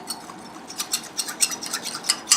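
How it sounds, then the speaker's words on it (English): Vegetable side dish being stirred in a bowl with a utensil, giving irregular scraping and clinking strokes, close and moderately loud, with no talking. "Make sure you really mix it well"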